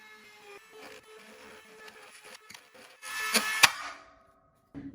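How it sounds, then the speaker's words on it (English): A Dremel rotary tool bores through PVC pipe indoors, giving a steady whirring grind with a louder, harsher burst as it cuts through the plastic, then it stops. "is just take my Dremel and put my holes right through the PVC like so"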